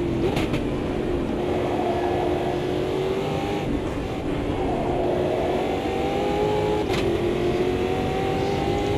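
Race cars lap a circuit in the Automobilista 2 sim racing game, a loud continuous engine drone whose pitch climbs and sweeps through gear changes, with other cars whirring close by and no talking.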